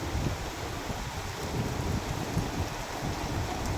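Heavy monsoon rain pours over farmland in Kalahandi, Odisha, as a dense, loud, unbroken hiss mixed with gusty wind rumbling against the microphone.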